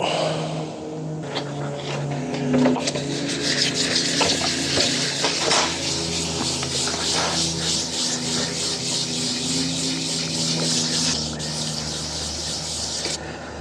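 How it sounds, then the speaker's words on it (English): Paint on a Harley-Davidson Dyna rear fender is sanded down by hand on the bike, giving a loud, continuous, close scraping rub with rhythmic back-and-forth strokes throughout. "You got to sand the whole entire area and bring it down even."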